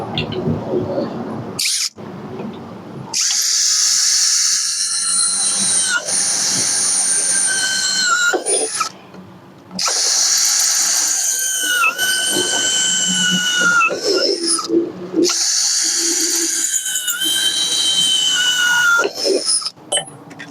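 A drill bores holes into an aluminium profile held in a hole-setting jig, producing long, loud, high-pitched screeching bursts separated by brief pauses, with the bit briefly catching in the hardened metal.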